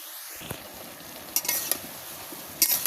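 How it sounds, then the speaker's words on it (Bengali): Water lilies fry in a pan on a clay stove, with a soft steady sizzle and a few sharp scraping clacks of stirring at irregular moments. "এভাবে এখন দুই মিনিট জাল করে নিব এতে শাপলাগুলো নরম হয়ে আসবে"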